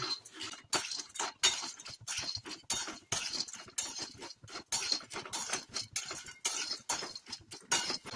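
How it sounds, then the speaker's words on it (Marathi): Mixed-dal lentil vadas frying in oil in a pan over low heat give a steady, busy crackle and sputter, with rapid small pops repeating throughout and no talking. "आता हे वडे आपण मंद आचेवरती छान तेलावरती परतवून घेऊ"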